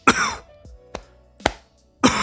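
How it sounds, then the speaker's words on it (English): A few short, harsh coughs, close by, each a single burst separated by brief silences, with a final louder one at the end. "I have a cough."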